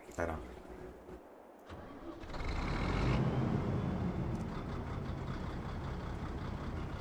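A tractor engine in Farming Simulator 22 cranks and catches, then settles into a steady, fairly loud idle rumble, with a person talking over parts of it.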